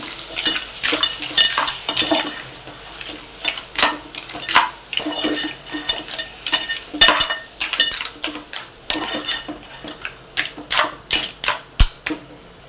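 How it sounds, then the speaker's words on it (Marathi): A utensil scrapes and clatters against a pan as clams are stirred into fried masala, in close, loud, rhythmic clicks and knocks over a soft sizzle, with the strokes growing quicker and sharper toward the end. "त्यामध्ये आपण तिसऱ्या किंवा शेवड्या आपण घेऊया मिक्स करून घेऊया"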